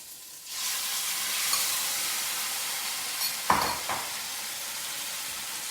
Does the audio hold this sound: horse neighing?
no